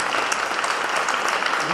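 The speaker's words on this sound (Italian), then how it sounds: "Ma qui va fatto un applauso." Crowd applause at a public gathering, loud, dense and continuous clapping filling the whole short stretch with no pauses.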